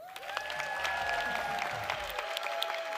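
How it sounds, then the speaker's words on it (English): Conference audience at the CMX Summit 2025 applauds, steady sustained clapping from a crowd in a hall, with music tones running underneath. "Please give a huge welcome and round of applause for Margot Miller."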